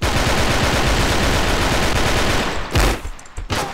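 Rapid, loud, densely packed shotgun blasts in a Begone duel video game fire almost continuously, then break into a few separate bursts near the end.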